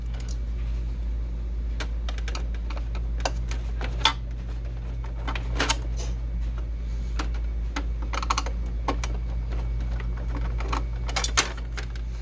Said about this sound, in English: You can see those 1, 2, 3 screws that we're going to remove. I'm going to use a Phillips screwdriver for that.